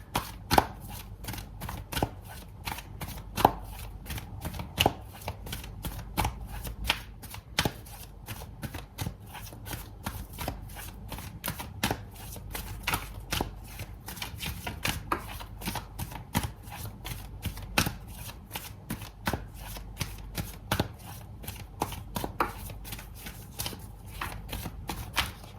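A Wisdom Oracle tarot deck is shuffled close by, its cards riffling in a long, even run of quick flicks and soft slaps with no break and no talking.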